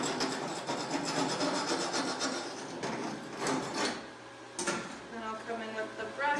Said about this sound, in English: So I'm just going to scrape off some of that spatter from the sides here.